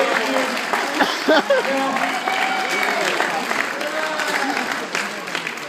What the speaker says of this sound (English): Give me one big round of applause.